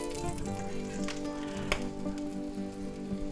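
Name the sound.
ham and French toast sandwich frying in a pan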